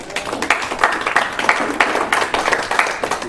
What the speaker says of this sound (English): Let's hear it by applause if you're over 45.